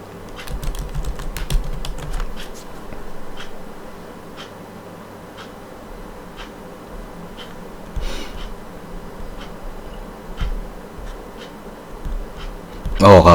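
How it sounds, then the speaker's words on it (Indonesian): Light, scattered taps of typing on a computer keyboard, irregular and fairly faint, under a low steady background hum with a louder thump at the very end. "Ini coba saya ketik dulu ya"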